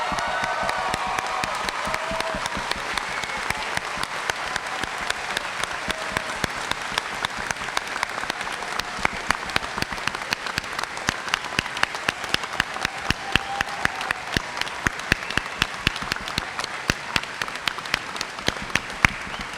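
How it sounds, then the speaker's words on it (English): A large crowd at a high school graduation ceremony applauds the graduates steadily and continuously, a dense wash of clapping with scattered louder claps. "let us stand and applaud the graduates"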